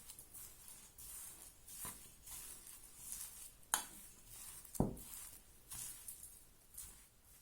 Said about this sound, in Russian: И перемешиваю полученное тесто. Вначале ложкой.